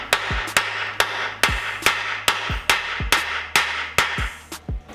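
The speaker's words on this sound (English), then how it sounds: "giving it a good old smack with this lump hammer." A lump hammer strikes a nut threaded onto a stuck bolt on the rear beam of an Escort Cosworth: about ten sharp, close metallic blows land in a steady, evenly spaced rhythm, each with a brief ringing decay, with no talking.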